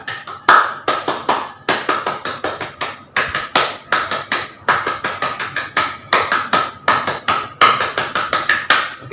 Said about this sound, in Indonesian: kakak minta kepada adik-adik 3 kali tepuk pramuka